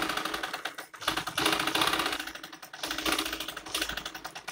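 A sewing machine stitches buckram into the cuff of a Chanderi salwar, a steady, rapid mechanical clatter that runs continuously and surges slightly in places, close and fairly loud with no talking.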